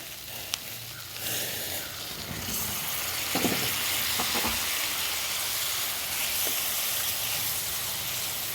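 Egg masala simmering in a pan with hot water added, giving a steady close sizzle with scattered soft scrapes and clicks as it is stirred now and then; nobody speaks.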